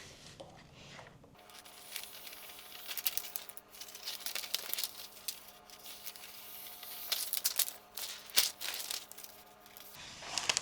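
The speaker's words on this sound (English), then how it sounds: "I can just kind of slide the scissors through" Steady crisp snipping and crinkling of paper being cut with scissors, close by, with small irregular rustles and a few sharper clicks throughout.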